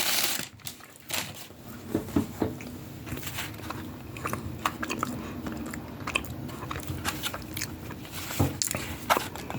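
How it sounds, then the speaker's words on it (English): Biting into and chewing a soft $5 Subway cookie, with close, moist crunching and smacking bites repeating irregularly throughout, no talking. "I want to eat the cookie."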